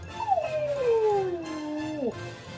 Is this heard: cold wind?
no